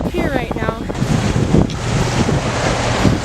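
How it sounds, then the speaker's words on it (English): Big ocean waves roll onto a beach under a red-flag warning, heard as a loud, continuous rushing surf buffeted by heavy wind noise on the microphone, with a brief voice-like sound at the start. "the waves are super big"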